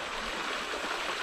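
The Buffalo River near Waynesboro, Tennessee, gives a steady, close rushing wash of flowing water, an even hiss with no pauses.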